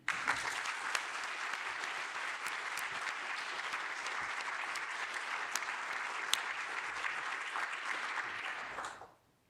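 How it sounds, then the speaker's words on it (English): A lecture audience at the Margaret Boden Lecture gives a sustained round of applause, dense and steady with a few sharp individual claps standing out, lasting about nine seconds before cutting off quickly. "a little round of applause for Maggie"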